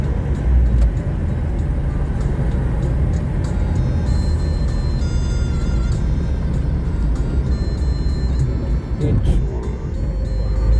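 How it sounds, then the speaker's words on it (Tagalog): Heavy road traffic on Al-Khail Road in Dubai, a loud steady rumble of car and bus engines passing close by, with faint tonal sounds over the constant drone. "Grabe ang traffic oh."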